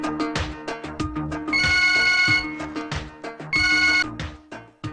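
A phone rings on an outgoing call, a bright, melodic ringtone with rhythmic plucked notes and two sustained, louder chime-like swells, playing steadily with no voices.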